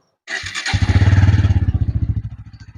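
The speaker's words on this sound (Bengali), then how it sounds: "বাইকে যদি স্টার্ট করি সাউন্ড কন্ডিশনের জন্য" A 2023 Bajaj Pulsar N160 motorcycle starts up close by, its engine catching after a brief crank and settling into a loud, steady, rhythmic idle that gradually eases off.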